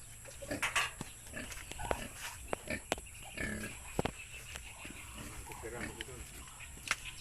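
A pig kept in a pen at a rural home in the Philippines, giving scattered short grunts and snorts at close range amid faint clatters, with quiet voices talking in the background.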